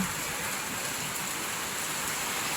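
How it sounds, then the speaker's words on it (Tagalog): Steady rain hisses evenly with no break, a dense wash of patter on surfaces at moderate volume. "ayan ulan, nababasa na tayo dito"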